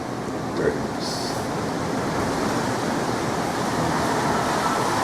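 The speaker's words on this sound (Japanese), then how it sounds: "やっぱりこの風ですよね。 音聞こえるでしょうかね。 結構ゴーゴー言って" Typhoon wind roaring outdoors in Naha, Okinawa, a steady heavy rushing roar with a few brief faint sounds early on.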